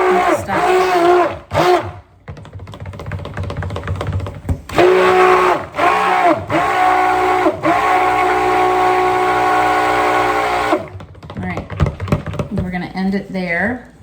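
Goat milk soap batter whirred with a stick blender, a loud steady motorized drone that starts and stops in several bursts, with people talking around it.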